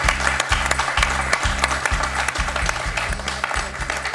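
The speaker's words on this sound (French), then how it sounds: "On applaudit Laetitia." Studio audience applauding a contestant on a French TV quiz show, a steady broadband wash of clapping over a pulsing, repetitive low musical beat, with no talk.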